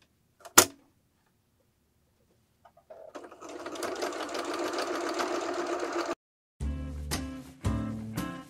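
A sewing machine stitches piping onto a pillow, first with one sharp click, then a steady whirring run of stitching that stops briefly before two shorter bursts resume, close and clear.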